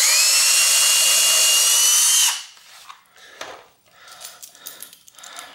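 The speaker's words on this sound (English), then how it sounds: "I'm just going to drill like a pilot hole here in there." A power drill with a small bit bores a pilot hole in wood for a cheap T-shirt screen printing press, whining loud and steady for about two seconds before stopping, followed by quieter handling clatter and scraping.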